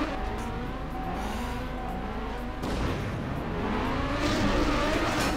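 A racing car engine in the video game Trackmania drones steadily and loudly, its pitch sliding and shifting through gear changes as it takes a corner, with no voices.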